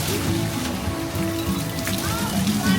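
Water splashing and sloshing from an interactive fountain stream as it hits a hand, a steady wet patter like rain on a surface, close and continuous, with faint voices in the background.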